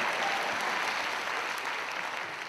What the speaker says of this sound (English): Clap, people.